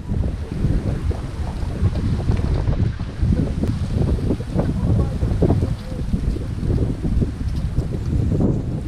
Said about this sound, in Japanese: 風が吹いてます。